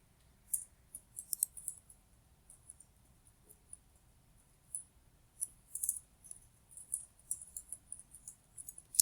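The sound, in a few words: computer mouse clicking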